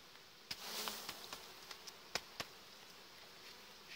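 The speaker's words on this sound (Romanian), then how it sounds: "Iată cum stă albina pe ea." Honey bees buzz steadily in an opened hive during colony work, a soft, continuous drone marked by a few sharper nearby knocks or movements, with no talking.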